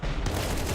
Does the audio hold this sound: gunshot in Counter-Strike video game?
yes